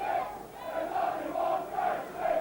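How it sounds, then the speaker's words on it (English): A rugby league stadium crowd at Hull versus Leeds chants in unison for coach Brian Smith near the end of the match, a massed rhythmic swell of many voices rising and falling in repeated phrases. "the whole crowd chanting for Brian Smith"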